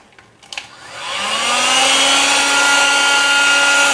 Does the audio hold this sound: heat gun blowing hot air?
yes